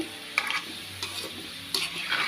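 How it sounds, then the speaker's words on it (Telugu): Slit amla (Indian gooseberries) fry in oil for pickle, making a soft close sizzle that is stirred now and then, with a few scraping clinks of a spoon against the pan. "ఇవి మంచిగా వేగనివ్వాలండి చక్కగా ఈ విధంగా బ్రౌన్ కలర్ వచ్చే వరకు"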